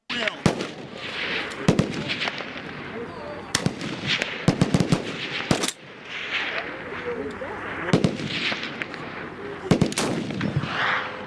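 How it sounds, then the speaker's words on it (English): Rapid bursts of gunfire from a weapon in a war zone, sharp cracks repeating in clusters over continuous background noise, loud and fairly close. "here's another clip of the Lottie firing"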